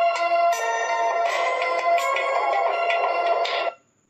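Melodic background-music ringtone from the 1998 Hindi film Soldier, a bright synthesized tune with stepping notes over sustained tones, played alone and clean, ending abruptly into silence.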